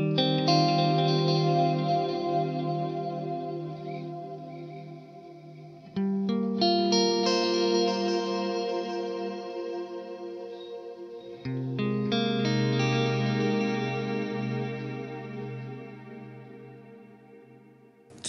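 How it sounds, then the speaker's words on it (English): An electric guitar runs through the Line 6 Helix Heliosphere, a delay feeding a reverb. Three sustained chords ring out in turn, each struck sharply and then swelling into a long, shimmering, echoing wash that slowly fades. "there's a delay being fed into a reverb, but your dry guitar doesn't have any reverb on it"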